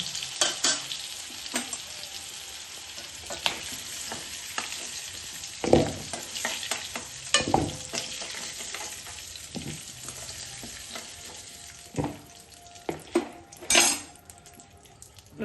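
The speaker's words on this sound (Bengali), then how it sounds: "আলুগুলো ভাজা হয়ে গেছে এবার আমি তুলে নেব" Potatoes fry in a pan with a constant bubbling sizzle, while a utensil scrapes and clinks against the metal in irregular bursts.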